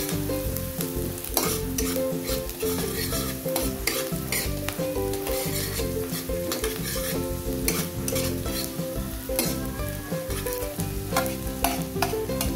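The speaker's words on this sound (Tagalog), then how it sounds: "Mas matagal natin igigisa ang sibuyas, mas masarap." Onions sauté in a pan for beef broccoli, with a steady sizzle and frequent scraping, clinking stirs throughout, close and continuous, with no voices.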